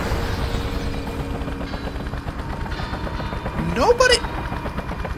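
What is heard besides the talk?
gunfire in the video game Just Cause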